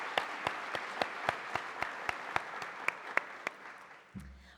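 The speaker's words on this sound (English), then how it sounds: "A round of applause." Applause at a garden awards ceremony, a crowd clapping in a steady wash with a few sharp, regularly spaced nearby claps standing out, ending abruptly.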